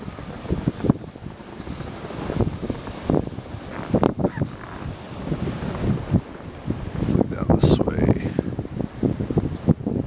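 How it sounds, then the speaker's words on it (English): Wind gusting during a snow storm outside an apartment complex in Norman, Oklahoma, a steady rushing and buffeting roar with bursts of microphone wind noise, close and fairly loud throughout. "If I hush for a second, you might be able to hear the wind."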